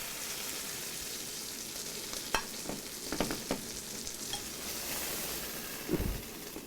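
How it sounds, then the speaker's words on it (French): A stuffed turkey breast roast sears in a hot pan with a steady sizzle and frying hiss, broken by a few clinks and scrapes as the roast is turned over to brown its other side. "La première face est déjà saisie, on retourne pour saisir l'autre face."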